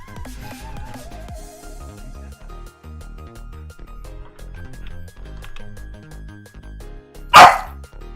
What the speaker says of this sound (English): Loki's being barky.